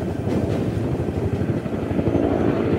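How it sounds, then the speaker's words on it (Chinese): A Cobra attack helicopter lifting off during a military live-fire exercise, its steady rotor and engine drone filling the scene at moderate distance without pause. "眼镜蛇直升机帅气升空，瞄准目标区"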